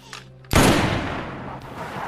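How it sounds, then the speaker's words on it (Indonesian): A single loud gunshot in a zombie film rings out after a quiet tense moment, followed by a long decaying echo. "Yubin pun mengakhiri penderitaan mereka dengan menembak keduanya."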